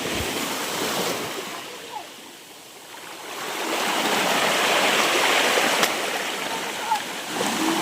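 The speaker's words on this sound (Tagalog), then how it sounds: "grabe ang alon dito" Strong surf rolls onto an island beach at a campsite, a loud, continuous wash of breaking waves that swells and recedes, with brief faint sounds over it.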